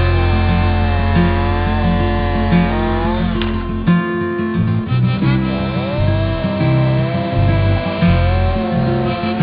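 A Husqvarna chainsaw cuts through deciduous wood with a continuous loud, buzzing engine drone, its pitch dipping and recovering as the chain bites into the log.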